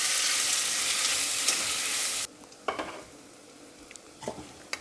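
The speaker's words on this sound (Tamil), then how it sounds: "வெங்காயம் வதங்கட்டும்." Onions frying in a pan for coconut chicken curry: loud, steady sizzling hiss that suddenly drops quieter, followed by scraping and clinking stirring sounds.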